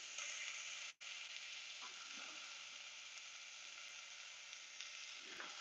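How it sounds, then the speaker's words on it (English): Garlic and onions sauté in a hot pan with a steady, close broadband sizzle, broken by one brief dropout and a few faint utensil clicks. "right now we're sauteing the garlic and the onions"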